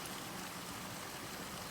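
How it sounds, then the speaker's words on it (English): A creek swollen after storms flows steadily, a soft continuous rushing and gurgling of water heard faintly and alone. "Oh, look at the creek today. It's full and flowing."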